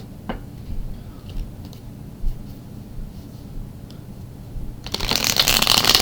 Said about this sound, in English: Final shuffle here.